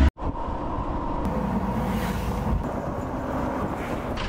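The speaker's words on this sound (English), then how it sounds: "This is a really big Jeep." Steady rumble of a big, high-riding safari jeep on the move in hot Sri Lankan countryside, with wind buffeting and a constant low engine and road roar throughout, no talk.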